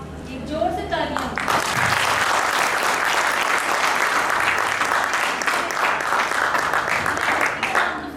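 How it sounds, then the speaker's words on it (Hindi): Loud, dense applause erupts from the crowd at a Women's Day honours ceremony after a brief spoken opening, then holds steady and strong to the end. "जोर से तालियां।"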